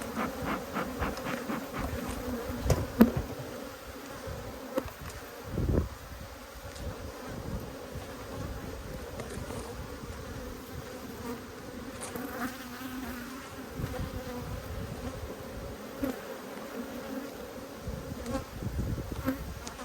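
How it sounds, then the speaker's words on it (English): Honey bees buzzing continuously around an open hive during an inspection, a dense steady drone with close individual bees flying past the microphone and occasional handling knocks. "I've got a bee in my jacket."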